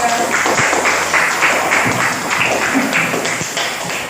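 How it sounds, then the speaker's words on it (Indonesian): Classroom applause for a student group after their discussion presentation, a dense steady patter of many hands clapping at once, fairly loud and close, sustained without a break and with no voices on top. "tepuk tangan untuk kelompok 3"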